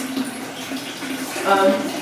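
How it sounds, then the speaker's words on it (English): Water rushing steadily through a broken toilet that keeps flushing, a continuous hiss and trickle with a brief surge near the end, heard up close indoors. "This is the flush, but it continues to flush now, so it makes a lot of noise."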